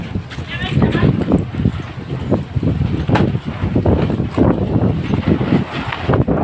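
Strong storm wind roars and buffets the microphone continuously, a heavy rumbling gusty noise filling the whole stretch.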